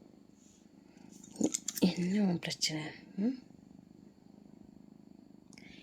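A cat settled on a lap purrs steadily, a low close rumble that runs through the clip beneath a woman's brief speech.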